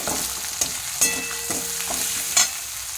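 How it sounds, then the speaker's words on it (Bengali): Poppy seed paste fries in a pan with a constant close sizzle. A spoon stirs and scrapes through it in a few sharp strokes. "এবার আমি বেশি করে একটু পোস্তটাকে যে র্যাশ করে রেখেছিলাম সেটাই দিয়ে দিলাম এটা একটু ফ্রাই হয়ে গেলে"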